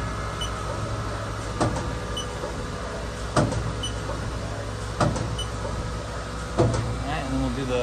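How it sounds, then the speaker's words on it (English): On a Haas SL30T CNC turning center, the turret moves in short steps, giving four sharp mechanical clunks at regular intervals over a steady machine hum, with someone talking nearby. "move the turret real quick."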